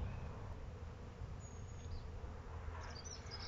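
Honeybees buzzing around an opened hive being taken apart, a steady dense drone of many insects filling the air, close and continuous without a break.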